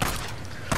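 Pistol fire in the video game Days Gone: two loud, close, booming shots, one at the start and one just before the end.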